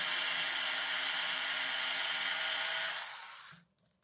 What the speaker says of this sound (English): You just want to drill a hole.